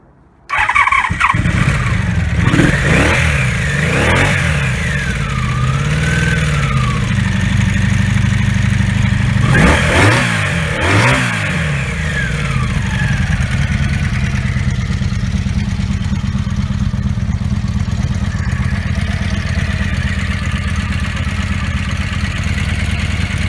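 A 1986 Honda V45 Magna VF750C motorcycle engine starts, revs twice, then settles into a loud, steady idle with very slight ticking that runs on close by.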